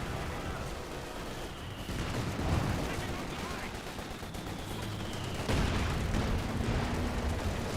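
A rifle grenade strikes and destroys a British mortar position in Company of Heroes 2, heard as dense battlefield gunfire and explosive bursts, with a fresh blast near the middle and louder impacts toward the end.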